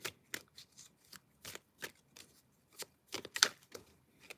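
Tarot cards being shuffled by hand to draw a clarifier, a rapid series of dry riffling bursts with brief pauses between, close and fairly quiet, with no talking.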